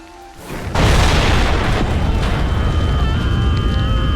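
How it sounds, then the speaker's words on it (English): A nuclear bomb goes off in Project Zomboid: a sudden massive boom swells in and then holds as a loud, sustained roar and rumble that fills the rest of the clip. "And this is the nuclear bomb."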